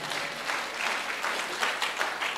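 A church congregation applauds steadily and cheers, dense clapping filling the room for a couple of seconds with no break.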